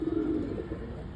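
Dove on a house rooftop gives a short low coo, a soft steady tone with a faint hum of outdoor background behind it.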